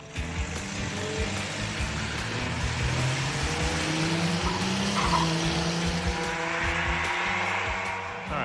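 Turbocharged, fuel-injected five-speed minivan doing a one-tire burnout: a loud, steady engine roar with continuous tire squeal and skidding at close range for the whole stretch, no talking.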